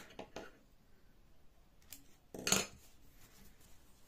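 Scissors snipping embroidery thread during cross-stitch, a few faint close clicks early on, then one sharper, louder snip near the end in a quiet room.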